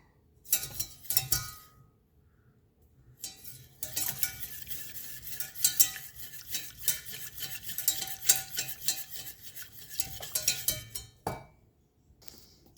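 Ceremonial cacao mix whisked in a pan just off the heat, in rapid scraping, clinking bursts that start and stop, loud and close with short pauses between rounds.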